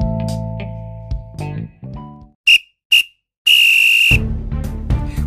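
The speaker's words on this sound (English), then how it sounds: "there goes the final whistle" A referee's whistle at a Warminster Town FC football match, a couple of short sharp blasts followed by one long piercing blast, loud and close, framed by music.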